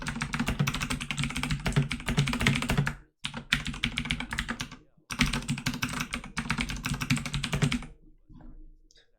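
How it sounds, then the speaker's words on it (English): Rapid, loud clicking of a clicky computer keyboard being typed on in bursts, with two short pauses before the keystrokes trail off near the end. "Excuse my clicky keyboard."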